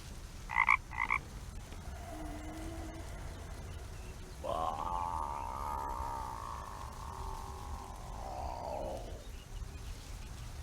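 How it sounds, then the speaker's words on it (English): In the video game The Night of the Rabbit, two short chirps, then a long, low, rattling frog croak that holds for several seconds, fairly quiet against a steady background. "to wake him up, I'm gonna make froggy noises"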